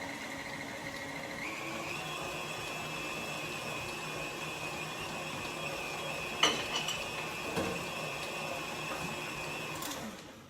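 An electric mixer whirs steadily as it works flour into cookie dough, shifting pitch slightly after the start, with a few clinks against the bowl near the end and no talking.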